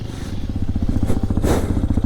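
Hero Xpulse 210 motorcycle climbing a steep off-road slope, its engine thumping in a rapid steady rhythm close by, with clattering and scraping from the terrain and a surge of revs midway.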